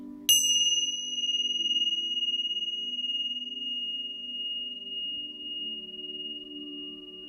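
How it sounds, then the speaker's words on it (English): One sharp bell chime sounds, then its pure ringing tone sustains and gradually decays, with a quiet low drone underneath. "And we're gonna ring the bells one more time."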